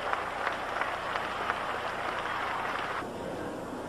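A crowd applauding after a bout at the 1985 WPAA Canadian boxing championships, a dense, steady clatter of many hands clapping in a hall that stays even, then thins and softens near the end.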